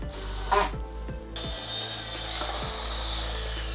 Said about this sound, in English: They're fastening the wood to the substrate.